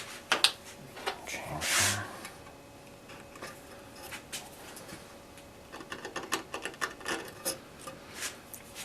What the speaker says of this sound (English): It's a little wider version of a chisel style tool, and it's used for these deeper accent cuts.